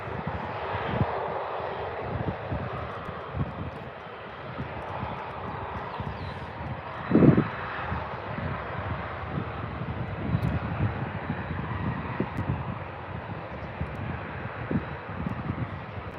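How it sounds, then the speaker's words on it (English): An EasyJet Airbus A320 moves onto the tarmac at Birmingham airport on a sunny, breezy day, its engines a low, distant whine and rumble holding steady, with one brief louder burst in the middle. "Here's that A320 EasyJet just coming, making its way onto the tarmac."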